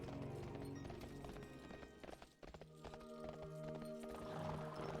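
Hooves clip-clop as a horse mount trots in World of Warcraft. The steady rhythmic footfalls sit under dense game music and ambience, with a brief dip midway.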